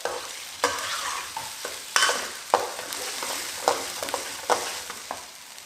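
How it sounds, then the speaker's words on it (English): Prawn bhuna curry with mushrooms and red pepper frying in a pan, a steady close sizzle broken by repeated stirring scrapes and clinks of a utensil against the pan, with no talking. "we want to fry this up, get this nice"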